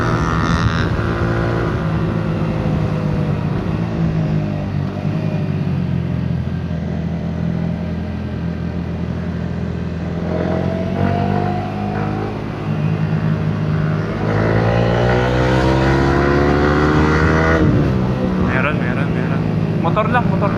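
A Yamaha MT-15 motorcycle engine revs repeatedly, its pitch climbing and dropping in several surges over about twenty seconds, loud and close.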